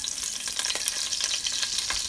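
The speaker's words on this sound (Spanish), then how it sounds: "Para freír el chile" Onion and chile frying in a pan, a steady bright crackling sizzle with scattered pops and occasional stirring scrapes, close and continuous throughout.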